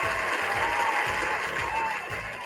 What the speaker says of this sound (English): this is when you put in some applause